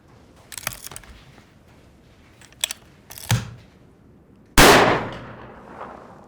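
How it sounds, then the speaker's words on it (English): A single loud, sharp shot from a 300 Blackout rifle with a short barrel cracks out near the close, ringing off briefly, preceded by a few faint clicks and handling knocks. "let's throw a round down range"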